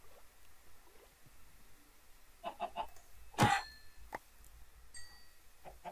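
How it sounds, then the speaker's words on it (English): Chicken clucks from a Minecraft-style survival game, heard in a birch forest: a few short, soft clucks scattered over a quiet outdoor background, with one louder burst near the middle. "there's another chicken."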